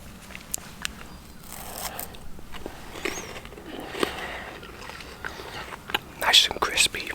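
Crisp crunches and chewing of a Nestle KitKat milk chocolate wafer bar sound close to the microphone, with sharp bites and quieter mastication between soft whispering.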